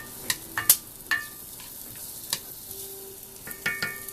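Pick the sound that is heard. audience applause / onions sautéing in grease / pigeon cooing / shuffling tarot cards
onions sautéing in grease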